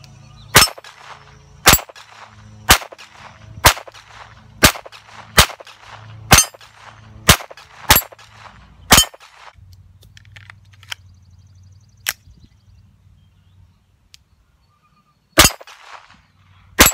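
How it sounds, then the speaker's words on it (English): A Ruger Mark III 22/45 target pistol fires about ten sharp, loud .22 shots in a steady rhythm, roughly one per second. After a quiet gap with faint low hum, two more shots follow. "Today I'm going to be shooting the Ruger Mark III 22-45 target. So let's give it some shots here."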